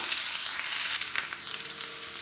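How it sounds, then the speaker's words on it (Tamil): Bottle gourd peel sautés in a pan, giving a loud, continuous close-up sizzle and frying crackle with light stirring, without any voices. "நம்ம சொரக்காவுடைய தோல் அதையே இதில் சேர்த்துட்டு நல்லா வணக்கிக்கலாம்"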